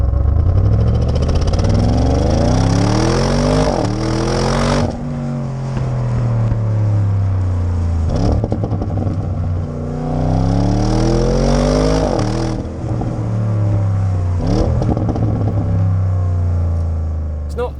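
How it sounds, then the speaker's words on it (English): A 2020 Audi RS6 engine and exhaust give a deep, meaty growl and rumble, rising and falling through several loud revving pulls with brief gaps between them. "the RS6 is... it's got this proper meaty growl and rumble to it"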